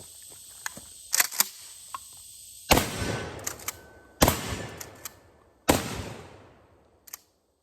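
A short-barrelled Remington 870 Police Magnum pump shotgun fires three loud, booming shots spaced over a few seconds, each with a long echoing decay, and lighter mechanical clacks come between them as the magazine is emptied outdoors.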